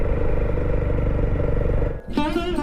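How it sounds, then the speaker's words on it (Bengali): A motorcycle engine hums loud and steady on a mountain road in Bandarban, then cuts out abruptly near the end as brief, higher clattering sounds take over. "আমার বাইকের সাউন্ডটা এখানে নয়েজ তৈরি করতেছে।"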